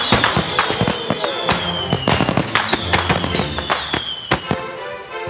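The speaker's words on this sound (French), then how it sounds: "Des feux d'artifice?" Cartoon fireworks for a reception at a governor's palace pop and crackle repeatedly, sharp bursts and whistling rockets rising and falling, fairly close and loud.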